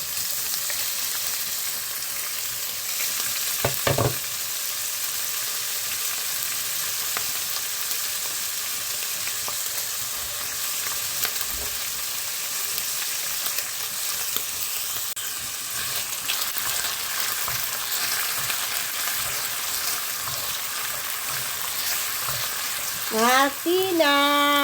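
Ham frying in a pan for a Filipino sotanghon or bihon noodle dish, a loud continuous sizzle and hiss with scraping stirs and a few clunks of the utensil against the pan.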